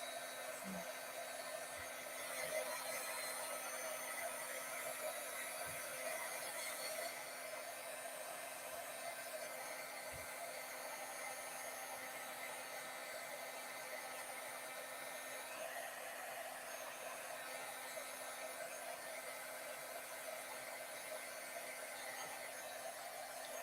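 A heat tool blows steadily while melting embossing powder on a craft piece, a continuous whirring hum with a faint whine that holds at an even level throughout, with no talking.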